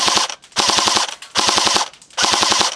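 An E&L AKM Gen 2 airsoft rifle fires on fully automatic in three loud, rapid bursts with short gaps between them, close to the microphone.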